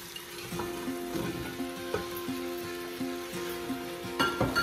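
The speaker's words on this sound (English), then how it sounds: "We're also gonna just simply saute them with our veggies for a few minutes." Potatoes and vegetables sautéing in a pan for caldo de queso, a soft steady sizzle with light stirring and faint clinks, quiet and close with no talk.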